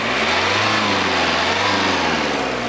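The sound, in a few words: Renault Duster K9K diesel engine revving, raw diesel sound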